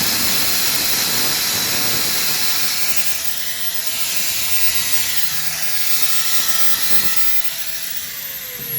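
An angle grinder idles steadily under no load, powered by a 1000-watt high-frequency power inverter, with a loud, continuous whirring hiss that dips slightly near the middle.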